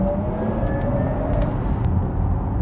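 A Porsche Taycan GTS electric car accelerates hard from about 50 mph in Sports Plus mode, heard from inside as a steady, loud whirring drive hum over road and wind noise, with a faint rising electric tone.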